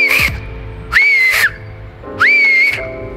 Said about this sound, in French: apprendre à siffler avec les doigts